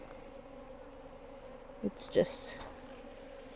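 Honey bees hum around a hive frame on a farm, a close continuous buzz with a few brief louder passes and a short spoken phrase over it.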